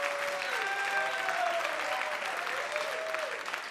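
Comedy club audience breaking into applause, a thick sustained roar of many hands filling the room at strong, even volume, with voices whooping through it.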